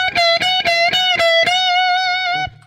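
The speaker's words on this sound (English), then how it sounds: "That's the sound of the fifth being bent up to the sixth." An electric guitar plays a short lick of picked, distorted notes in quick succession, ringing into a sustained tone near the end, played alone.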